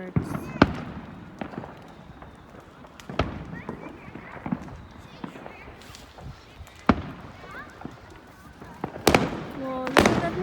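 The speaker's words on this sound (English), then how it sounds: "Kahit saan may fireworks." On bonfire night, fireworks go off in scattered sharp bangs and pops, mostly at a distance and moderately loud, with people talking in the background.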